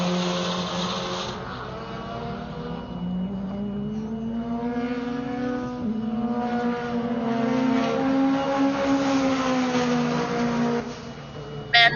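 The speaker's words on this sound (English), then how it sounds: "The CSF Evo just went down the front straight, and that car sounds great" The CSF Evo race car roars down the front straight at Buttonwillow during a GTA season finals session, a loud, sustained engine note with shifting pitch as it passes, with no talk over it.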